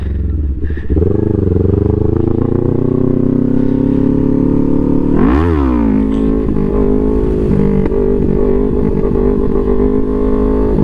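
Aprilia RS 660 motorcycle engine revving loudly and close during a wheelie, a sustained roar that climbs, dips sharply around midway, then surges again.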